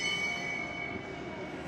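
At a Tokyo 2020 Paralympic track cycling individual pursuit in the velodrome, the final-lap bell rings as a steady, sustained tone over a broad wash of crowd and arena noise.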